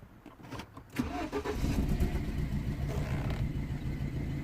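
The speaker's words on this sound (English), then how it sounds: "So we're gonna start the car and just confirm the misfire, I guess." BMW 116i with a misfire cranking briefly then catching and settling into a rough, uneven idle, heard close by, the engine note wavering and lumpy throughout.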